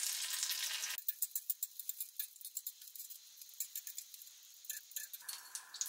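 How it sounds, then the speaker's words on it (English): Butter melting over medium heat in a pan, ahead of shrimp scampi: a brief hiss at the start, then quiet, irregular crackling pops and ticks, faint and close, with no voices. "Melt 2 tablespoon of butter in a pan over medium heat"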